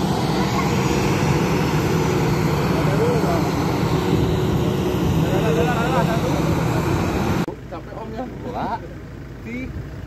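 A propeller airplane engine drones loudly and steadily close by, with people talking over it, then drops away sharply near the end to a quieter background with scattered voices.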